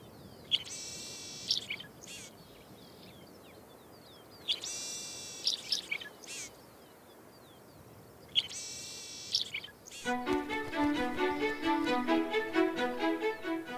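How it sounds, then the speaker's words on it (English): Sierra finch calling in a Chilean desert morning: sharp buzzy chirping phrases repeat in spaced bursts, clear and close, then give way to a denser run of rapid notes at the end. "The morning Sierra finch, one of the most common bird species in Chile, fills the desert with its characteristic call."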